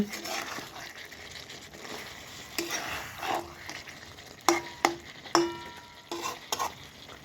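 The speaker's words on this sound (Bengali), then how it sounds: "এই দেখুন চিকেন রান্না হচ্ছে বন্ধুরা চিকেন রান্না হচ্ছে" Chicken curry sizzling in a pan, with a steady frying hiss broken by repeated sharp clacks and scrapes of a spoon stirring against the metal, close and moderately loud, no talk.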